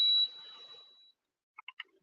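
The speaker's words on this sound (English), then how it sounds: "sorry for the beep. It was the machine." A single high electronic beep rings out, followed by a few short chirping tones from a machine, brief and clear.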